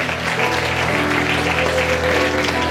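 A church congregation applauds its leaders, a pastor and his wife, with dense, steady clapping that fills the space evenly and stays loud from start to finish, with no voices heard over it.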